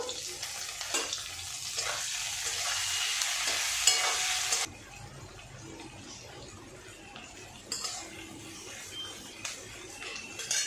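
Onions with a little salt fry in a pan for a potato and egg dish, a loud, close, steady sizzle that drops abruptly to a quieter hiss partway through, with a brief stir-like rustle near the end.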